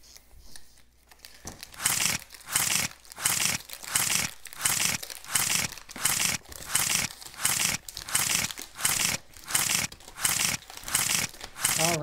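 Pokémon Vivid Voltage booster packs pulled out and shuffled together, a steady run of close crinkling foil-wrapper rustles repeating in quick regular bursts with no talk.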